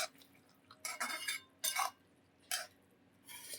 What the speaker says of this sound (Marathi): आता थोडंसं मिक्स करूया परत